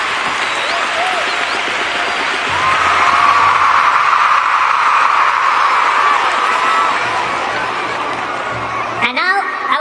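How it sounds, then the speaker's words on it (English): A big stadium crowd at Wankhede Stadium applauds steadily for about ten seconds during an Indian cricket team celebration, dense clapping with scattered cheers and whoops that swell midway, then an amplified voice starts at the end. "receive a round of applause from everyone gathered over here"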